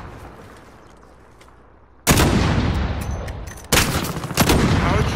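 Loud gunshots from a Dragunov sniper rifle in a video game, two sharp blasts about a second and a half apart, each followed by a long ringing decay after a quiet lull.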